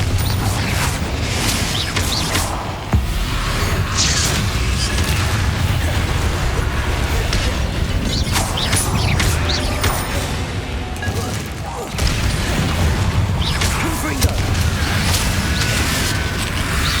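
Confringo, an explosive spell in Hogwarts Legacy, goes off amid loud, dense battle noise, with sharp bursts and crashes standing out over a constant roar.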